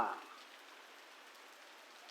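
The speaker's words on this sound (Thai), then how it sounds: "คลิปนี้ก็มาเล่าให้กันฟังว่าฝนตกวันนี้ครับผม ตกแรงนะครับผม" Heavy rain pours down in front of a house, a soft, even hiss of drops on surfaces that holds steady and fairly faint throughout, with no voices.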